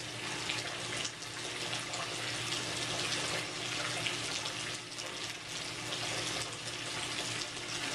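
Water runs continuously as the level rises, a steady dense rushing wash that stays even and close throughout with no voices.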